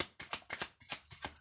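A deck of cards is shuffled for a card reading, with several quick riffles and soft slaps in a rapid irregular rhythm, close by and quiet, with no voice over it.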